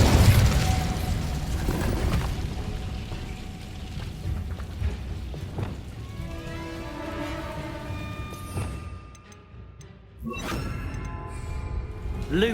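Incendio fire spell cast in Hogwarts Legacy: a loud roaring, crackling blast of flame over dense game noise, with bursts and impacts that fade away before a final flare.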